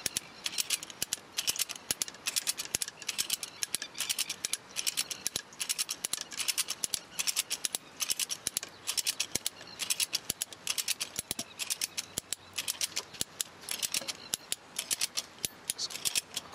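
A Strainrite XT1 wire strainer is cranked to tension fence wire, giving a continuous run of sharp ratcheting clicks in a quick, slightly uneven rhythm, close and fairly quiet, with no talking.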